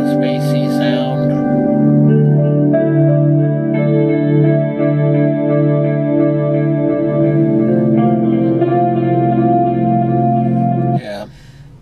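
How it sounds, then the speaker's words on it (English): A clean electric guitar played through a delay effect rings out in sustained, echoing notes and chords that blur into a spacey wash, loud and close, before cutting off abruptly near the end. "Delay on the clean guitar kind of gives it a spacey sound."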